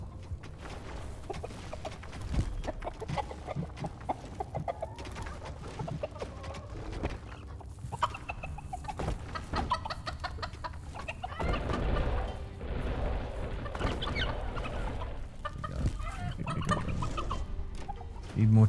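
Chickens cluck continuously in the video game Dungeons 4, a busy chorus of fowl sounds layered over game ambience and music, fairly loud and sustained.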